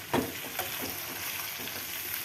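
Onions and whole brinjals sauté in a pan with a soft, even sizzle and a stir or two near the start.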